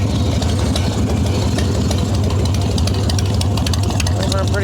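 Idling Evo Softail motorcycle engine with a wide glide, a steady loud rumble with a rapid rhythmic lope, close up throughout, with a voice partly heard over it.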